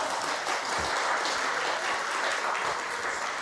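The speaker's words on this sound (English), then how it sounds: "It's okay to applaud." An audience at a nightly lecture breaks into steady, full applause, a dense wash of clapping that holds at an even level from start to finish without talk.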